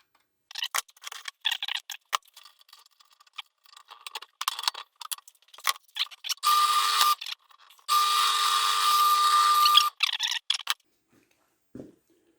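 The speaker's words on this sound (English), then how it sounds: "So I'm going to pre-drill and countersink those holes." A power drill pre-drilling and countersinking screw holes in lapped plywood pieces for sandwich-construction seatboxes, running in two steady bursts of about a second and two seconds, separated by short gaps and preceded by handling clatter.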